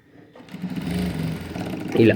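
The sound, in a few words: sewing machine stitching blouse beside thread piping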